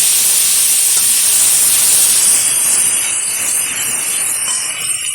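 Chopped potato and eggplant hitting hot oil over fried whole spices, producing a loud, continuous hiss that stays strong throughout and eases slightly toward the end.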